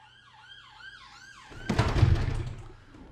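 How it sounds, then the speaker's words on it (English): An ambulance siren wails in rising and falling sweeps on a road in Laos, then a loud broadband rush of passing traffic swells up and fades as the vehicle goes by outside. "many frigging ambulances down this road"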